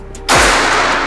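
A Mauser OD38 PCP air rifle fires a single loud, close shot after a brief quiet moment, with a lingering broad hiss that tails off.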